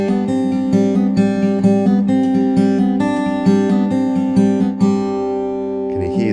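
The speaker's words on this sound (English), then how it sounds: "if I was to play that opening passage without string stopping, that would probably sound something like this." Fingerstyle acoustic guitar plays an opening melodic passage with no string stopping, so notes ring over one another and blur into a washed-out, sustained wash of tones, played alone at moderate level.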